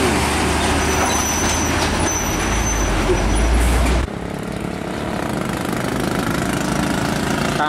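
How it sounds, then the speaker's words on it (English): A Hino SG 260 TI truck hauling an isotank trailer speeds past on the road, a loud, dense engine roar with road noise that drops slightly in level partway through and keeps rumbling steadily. "Hino SG 260 TI trailer Isoteng."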